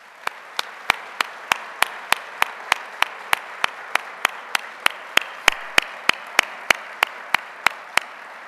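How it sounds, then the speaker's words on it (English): Regular, evenly spaced sharp claps, about three per second, ring out clearly over a quiet background at an awards banquet, crisp and close, as if a single pair of hands or a small group claps in steady rhythm. "Please join me in showing our gratitude to Mike Lynn and his professional team with a round of applause"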